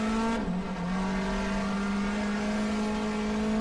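A race car engine in the GTR2 sim at Phillip Island roars at a sustained high pitch, dipping briefly as it shifts, then holding a loud, steady drone.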